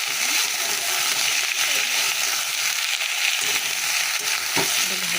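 Cut cauliflower and potato fry in a pan with a continuous loud sizzle and occasional stirring scrapes, while a person talks over the cooking.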